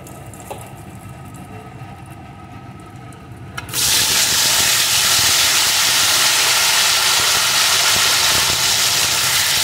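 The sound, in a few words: gathi kochu (taro stems) frying in oil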